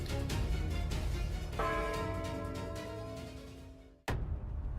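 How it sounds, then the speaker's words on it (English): Church bells ring at noon with sustained, ringing metallic tones that overlap in a dense wash and slowly fade, then cut off abruptly. "Every day at noon, from the Mediterranean to the Atlantic, church bells ring"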